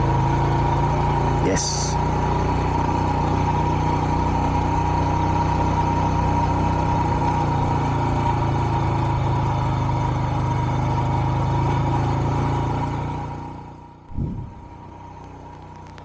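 Small tractor engine running at a steady low idle-like drone on a rough mountain road, close and continuous, then dropping away near the end with a brief thump; a short spoken word is heard.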